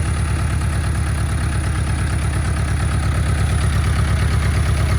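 Oliver Cletrac OC3 crawler tractor engine idling steadily after being started, with a constant low rhythmic chug and mechanical hum, close and loud throughout with no talk.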